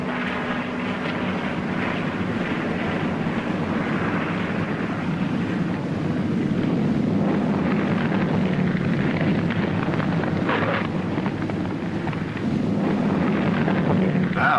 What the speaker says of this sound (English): Wow, that's a beautiful landing.